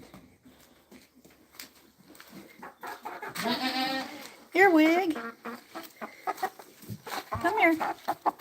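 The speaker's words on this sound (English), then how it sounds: "Let's get the chicken out." Farm chickens clucking and squawking, several loud nearby calls in bursts while a person talks softly around them and handles the birds.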